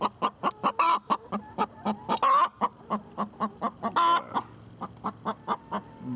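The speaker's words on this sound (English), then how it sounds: "I'm not even sure if you guys can hear me with all these birds" Backyard chickens in a Florida food forest cluck in a rapid, steady series of close, loud pulses, with a few longer squawking calls breaking up the rhythm.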